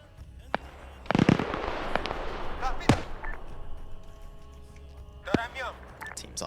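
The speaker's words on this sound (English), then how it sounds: "you can hear the gunshots from here" Sharp gunshots crack out in a military video game: several scattered bangs, a few louder and nearer, others fainter and distant, mixed with people talking over voice chat.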